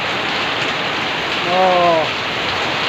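Steady, heavy rain pours down in a dense, continuous hiss, and a single voice briefly exclaims partway through.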